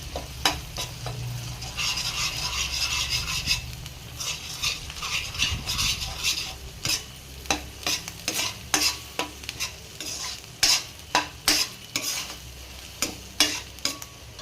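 Ginger garlic paste frying in a pan for a spinach chicken curry, with a steady close sizzle under repeated sharp scrapes and taps of a spoon stirring against the pan.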